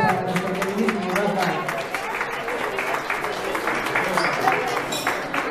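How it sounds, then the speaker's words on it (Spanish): Applause from an audience at an awards ceremony: sustained, even clapping from a crowd filling the whole stretch. "el aplauso fuerte para nosotros"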